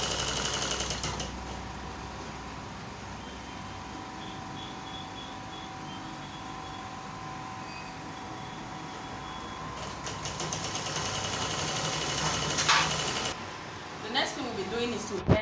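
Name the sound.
sewing machine stitching kimono dress seam allowance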